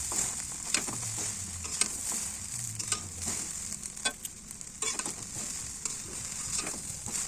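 Vegetables and green chillies fry in a pan with a bright, constant sizzle, punctuated by repeated spatula scrapes and taps as they are stirred, close and fairly quiet, with no voices.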